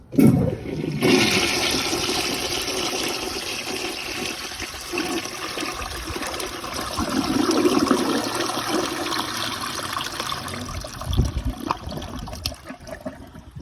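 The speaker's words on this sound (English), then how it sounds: "I finally get to test this thing on the flushometer." A 1965 Rheem Claymore toilet fitted to a flushometer valve gives one powerful flush, opening with a sharp burst and then a loud, steady rush of water that eases toward the end.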